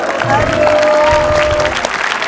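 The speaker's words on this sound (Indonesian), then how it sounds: "Tepuk tangan dulu dong untuk mereka." Studio audience applause on an Indonesian TV talk show, a dense steady clatter of clapping lasting a couple of seconds, with a sustained musical tone running beneath it.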